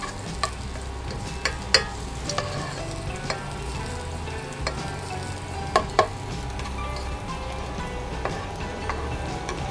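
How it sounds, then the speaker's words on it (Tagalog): Garlic crackles in hot annatto-tinted oil, a steady moderate sizzle scattered with sharp little pops and spits, heard close and alone. "Naglagay na ako ng oil dito. Lalagyan na natin ng bawang."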